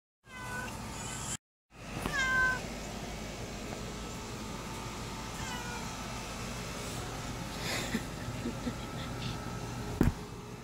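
A pet cat meows several times in a home on a muggy morning, fairly close, over steady room noise and a low hum, with a brief dropout early on and people talking nearby.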